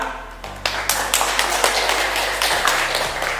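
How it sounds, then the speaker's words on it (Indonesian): Students in a classroom give applause for a classmate named Satria, a burst of many hands clapping at close range, with rapid irregular claps that start suddenly and then taper off over a low hum. "Beri aplaus buat Satria."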